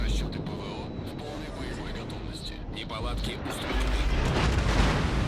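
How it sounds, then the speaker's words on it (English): Heavy naval shells slam into a warship in World of Warships, a continuous rumbling barrage of booms and blasts that swells louder near the end, with someone talking over the battle. "Now they're shooting at me."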